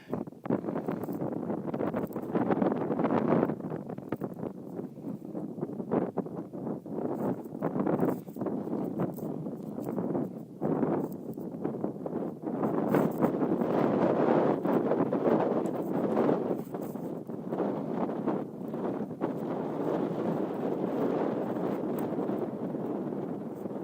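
Wind gusts across a microphone on a high, barren mountain trail, a loud continuous buffeting roar that rises and falls in uneven surges for the whole stretch, with no voices.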